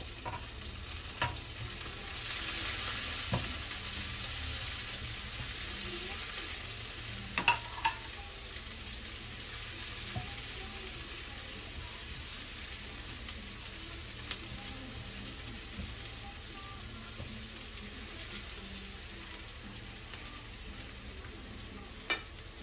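Ginger and onion sauté in oil in a pan with a steady, even sizzle that lasts throughout, broken now and then by sharp clicks and taps from stirring. No one speaks.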